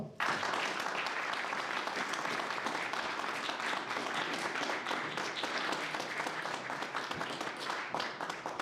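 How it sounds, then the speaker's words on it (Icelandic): An audience at a public forum on Icelandic independence claps in sustained, dense applause that holds at a steady level from start to finish. "Gefið þeim gott klapp."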